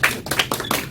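A church congregation claps in warm applause, a short burst of many hands with uneven, overlapping claps lasting under a second.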